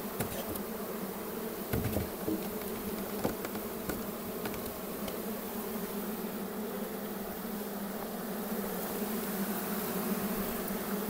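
Dense, steady drone of honeybees buzzing around a hive during queen rearing, a continuous close hum with occasional louder passes of individual bees near the microphone.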